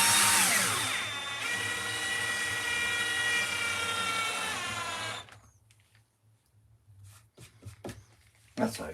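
Power drill drives a screw into clamped wood, a loud whirring with rising pitch lasting about five seconds, then stopping, followed by faint knocks and handling noises.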